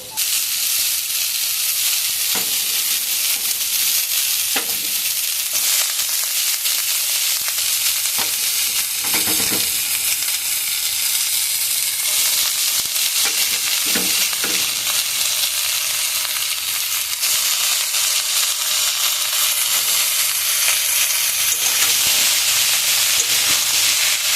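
Bottle gourd and browned potatoes frying in oil in a pan, a dense, constant hiss and sizzle filling the whole stretch, with a few faint utensil clicks, close and steady.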